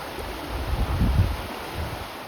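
A fast-flowing stream on the Southern Upland Way near Galloway Forest makes a steady, full rushing roar, loud and close, with gusty swells and no talk.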